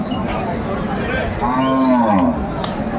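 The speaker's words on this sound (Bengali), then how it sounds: "এটা হচ্ছে গাভী" A cow lows loudly and close at a busy cattle market in Dinajpur, a drawn-out moo rising over a steady murmur of crowd chatter and bargaining voices.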